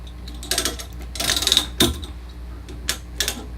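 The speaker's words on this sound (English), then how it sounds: "Then we bring the retractor back here with the rotating extender bar," A Rultract surgical retractor is locked into place with a few close metallic clicks and ratcheting bursts, separated by short pauses.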